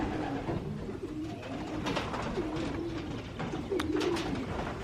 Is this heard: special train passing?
no